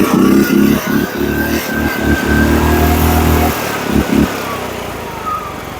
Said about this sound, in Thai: เครื่องยนต์นะ ดูเร่งนะ